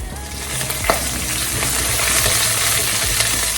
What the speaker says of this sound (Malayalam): വെളുത്തുള്ളിയും പച്ചമുളകും ആഡ് ചെയ്യാം അതിനുശേഷം ഉള്ളിയും കൂടി ഇട്ടിട്ട് വഴറ്റാം